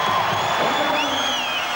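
Crowd noise at the 1986 NBL grand final between Adelaide 36ers and Brisbane Bullets, a dense, roaring cheer filling the arena for a brief moment with no clear single voices.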